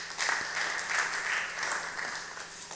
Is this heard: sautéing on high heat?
no